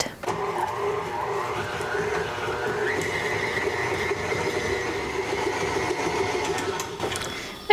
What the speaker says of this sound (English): Then I'll just mix this until the cream cheese is nice and soft and whipped.